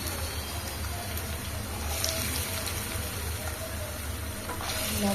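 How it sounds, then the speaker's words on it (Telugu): Small cut potato pieces fry in hot oil with a steady, close crackling sizzle that continues evenly throughout, with occasional faint stirring touches. "ఆయిల్ బాగా వేడయ్యాక మనం ఇలా అలగడలను వేసేస్తున్నాము"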